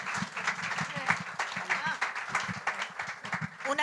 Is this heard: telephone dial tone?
no